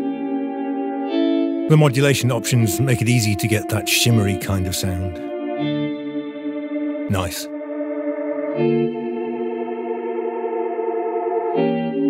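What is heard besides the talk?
shimmery modulated guitar pad patch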